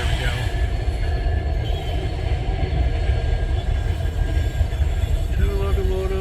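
Two train locomotives rolling on rails near Durand wyes, a steady loud rumble with faint wheel squeal and occasional higher tones, continuous throughout. Someone talks quietly beneath the noise.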